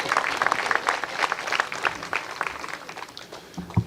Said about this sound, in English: You all clap it up for him.